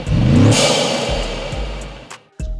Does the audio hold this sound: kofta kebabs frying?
no